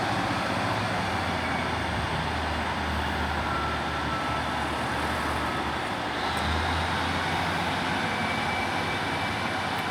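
A Class 155 diesel passenger unit pulls out of Selby station on a York to Hull service, a steady low engine rumble and broadband rolling noise holding close and even throughout, swelling slightly partway through, with no voices.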